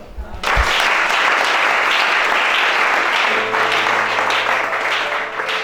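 A church congregation at a deliverance service bursts into sustained, loud applause that rolls on steadily for several seconds, with some voices mixed into the clapping.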